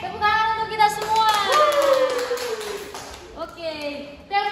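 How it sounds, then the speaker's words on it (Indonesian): Children in a classroom group clap together at a teacher's prompt, a burst of quick hand claps mixed with their excited voices, then a short second round of clapping near the end. "Oke, tepuk tangan untuk kita semua"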